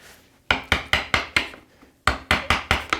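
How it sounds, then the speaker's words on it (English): A chisel chops into wood to cut a blind dado, giving a rhythmic series of sharp, close mallet-struck knocks in two runs of about five and four strikes separated by a short pause. "along, steering the chisel, taking a deeper cut or a lighter cut"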